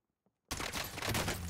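Gunfire in a first-person shooter video game: after a near-silent moment, a sudden loud burst of rapid, overlapping shots fills the rest of the clip.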